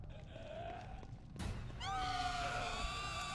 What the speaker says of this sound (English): Those things, when they scream, they completely empty your stamina.